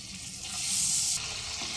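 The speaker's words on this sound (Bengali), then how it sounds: "তিন থেকে চার মিনিট টমেটোটা একটু কষিয়ে নেব" Chopped tomato with turmeric fries in a pan for a vegetarian dal, giving a close, steady hiss that swells briefly as it is stirred.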